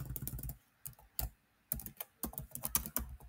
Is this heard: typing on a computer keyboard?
yes